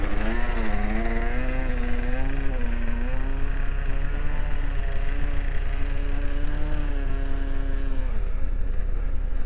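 A model F-14 TameCat airplane's glow engine runs while taxiing, a continuous buzzing whine whose pitch rises and falls in smooth waves, fairly close and steady for the whole stretch.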